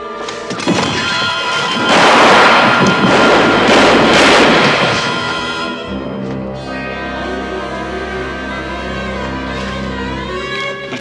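A gunshot in a 1981 Nero Wolfe mystery drama, a loud burst of crashing, booming noise over the first few seconds that fades into a lower sustained rumble and tone.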